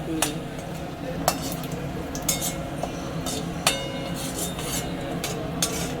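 Whole spices such as dried red chillies, cinnamon, cloves and cardamom frying in oil in a pan, a soft steady sizzle under occasional sharp clinks of a spoon against metal.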